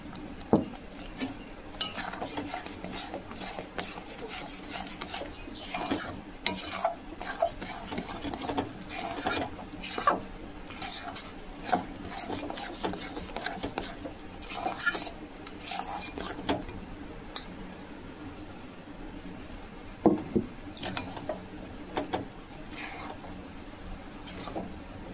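A spoon scrapes and rasps around a pan while lightly fried semolina and flour are stirred into a dough, making irregular scraping and occasional clinks close by, with background noise throughout.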